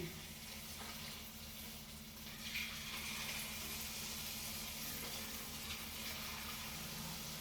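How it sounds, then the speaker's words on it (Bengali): Paneer pakoras frying one by one in hot oil for chilli paneer, a steady close hiss and sizzle with no talking throughout. "এবার আমি এগুলো একে একে করে ভাজছি।"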